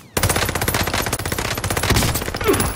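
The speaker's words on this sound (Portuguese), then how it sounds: "Estão atirando em mim." Rapid automatic gunfire aimed at the player in Call of Duty: Modern Warfare rattles out in a loud, continuous burst of close, sharp shots lasting nearly three seconds.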